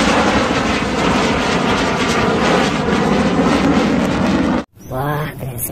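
A fighter jet plane roars past in a loud, steady, broadband rush that fills most of the clip, cuts off abruptly, then gives way to a brief voice.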